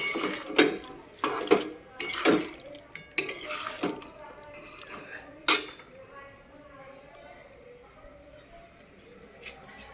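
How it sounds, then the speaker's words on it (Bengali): Hot water, heated on an induction cooker, is poured into a cooking pan holding paneer, with a few sharp clinks of utensils at the start, then a softer, steady trickle and splash close by. "ইন্ডাকশানে গরম জলটা করে রেখেছিলাম, এখন ওই গরম জলটাও একটু এর মধ্যে দিয়ে দিলাম পরিমাণ মতন।"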